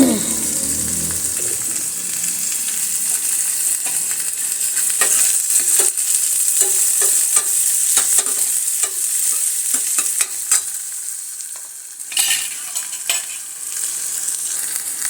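Tomatoes frying with onion in a hot pan give a steady, loud sizzle with scraping stirs and clatter throughout, fairly close and with no talking.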